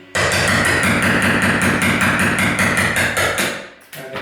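Rapid, loud metallic hammer blows on a chisel chipping at tiled towel rail ends, a steady fast rhythm of sharp close impacts that slows and stops near the end.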